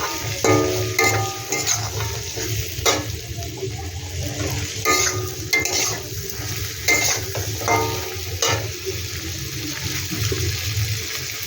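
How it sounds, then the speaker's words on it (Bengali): Onion and capsicum frying in a pan for a soybean do pyaza, a steady close sizzle with repeated scraping stirs through the whole stretch, no voices. "এখানে দিলাম পেঁয়াজ আর ক্যাপসিকাম, এইটা একটু আমি ভালো করে ভেজে নেব।"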